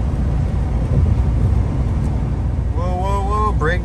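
A Duramax 6.6 LBZ diesel pickup accelerates on a highway, giving a steady, loud low engine and road drone throughout, with a brief voice-like tone near the end.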